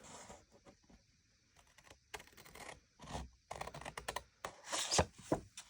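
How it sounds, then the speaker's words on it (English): Scissors snipping through paper for a botanical accordion book cover, a quiet series of short crisp cuts and rustles that grow louder toward the end, with no talking. "This one has to be cut. I will do that with my scissors."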